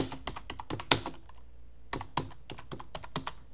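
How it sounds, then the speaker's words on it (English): Keys clatter in quick bursts on a computer keyboard as a Linux update command is typed: a rapid run of taps, one louder stroke like the enter key, a brief pause, then another flurry of clicks, close and clear with no talk. "You type in sudo yum update and then hit enter."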